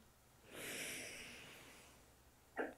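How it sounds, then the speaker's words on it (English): A person draws one long, soft breath in during a relaxation exercise, a quiet airy inhale lasting over a second, followed by a brief sniff, with no talking. "I'm breathing in"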